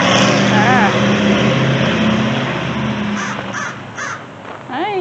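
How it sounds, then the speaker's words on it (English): Close, loud crow caws sound in several bursts from a wild crow near a person offering it food, over a steady background rumble like a passing car. "So I think this is one of the crows I tried to feed before."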